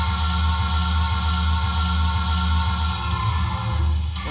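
An HO scale Broadway Limited GN S-2 brass hybrid steam locomotive model sounds its whistle through its sound system: one steady, sustained chord-like blast lasting about four seconds, loud and alone with no talk.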